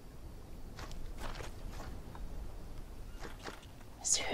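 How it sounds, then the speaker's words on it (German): Soft, scattered footsteps squelching through mud in the survival game Green Hell, faint and irregular against a quiet ambient background, with no one speaking. "Das klang ja, als wären die ganze Zeit hier irgendwelche Schritte durch den Schlamm"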